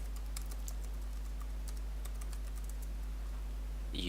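Someone types an email and password on a computer keyboard in quick, light clicks, a steady soft patter over a low electrical hum, quiet and close, with a slightly louder key tap at the end.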